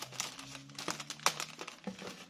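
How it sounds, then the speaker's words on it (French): Paper crinkles and rustles in short, soft bursts at close range as it is folded and handled, quiet otherwise. "Je vais essayer de les remettre dans le papier sans faire trop de bruit."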